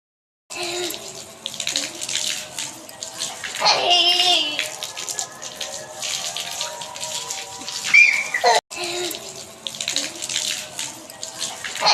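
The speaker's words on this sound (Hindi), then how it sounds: "बच्चों ने पानी देते देते खुद भी इन्होंने एक दूसरे को भिगोया और नहा लिया इन्होंने" Water runs and splashes steadily as children water plants and drench one another in summer heat, with faint children's voices mixed in and a brief break near the end.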